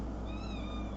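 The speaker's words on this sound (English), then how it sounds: "there's my cat" A pet cat gives a single drawn-out meow, clear and close, over a low steady background hum.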